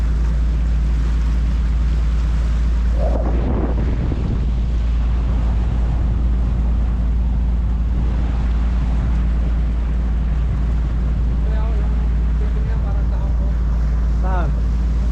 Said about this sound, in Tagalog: Ayan, lalaki ng alon.